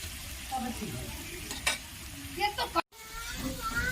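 Prawns and potatoes in poppy-seed paste frying in a pan as a little water is added, with a steady close sizzle, stirring scrapes and a few louder clatters, one brief break in the sound.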